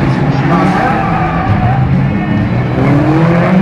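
Racing cars howl and squeal their tyres through a street race in Warsaw, engines rising and falling nearby under loud commentary speech.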